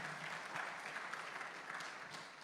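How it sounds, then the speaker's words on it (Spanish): A church congregation claps during a Sunday morning general service, a soft, steady patter of many hands heard at a distance, with no other sounds over it. "Dale palmas al Señor"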